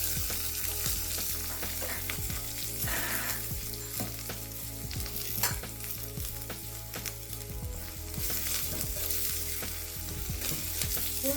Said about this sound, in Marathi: आणि शिमला आणि आलं लसूण पेस्ट आपण परतून घेणार आहे आता ही शिमला टाकू